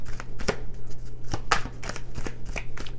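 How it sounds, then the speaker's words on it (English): Tarot cards being shuffled by hand, a string of crisp riffling slaps and flicks at close range over a low steady background hum. "2 more shuffles."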